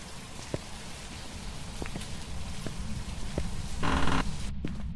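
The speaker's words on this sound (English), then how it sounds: "I also like how we have permanent rain." Steady rain falls in the ghost-hunting video game Phasmophobia, a constant wash of patter with scattered sharper drops and a brief louder burst near the end, no voices.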